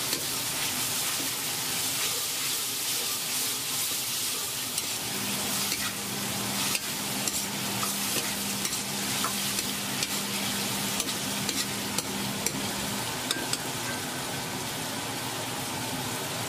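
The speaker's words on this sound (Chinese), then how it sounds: "倒入备好的蹄筋，继续翻炒。" Beef tendons stir-fried in a wok for a Sichuan dish, a steady loud sizzle broken by scraping, clattering stirs, with no voices.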